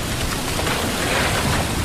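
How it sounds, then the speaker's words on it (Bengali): Storm sound effect of heavy rain with a low thunder rumble, a dense, loud, constant wash of noise. "ঝড় বৃষ্টি দুটোই সমানে চলতে লাগলো।"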